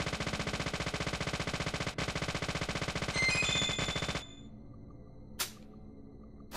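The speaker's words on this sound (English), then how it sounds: "I'm gonna stand here and shoot those boxes" Rapid automatic gunfire shooting boxes in the video game Deadly Premonition, a dense rhythmic burst lasting about four seconds, then stopping, followed by a single sharp impact and quiet game ambience.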